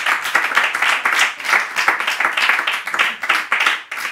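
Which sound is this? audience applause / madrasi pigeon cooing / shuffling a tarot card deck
audience applause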